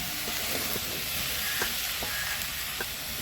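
Cabbage frying in a pan until browned gives a steady hiss and sizzle, with occasional small clicks and scrapes of stirring close by.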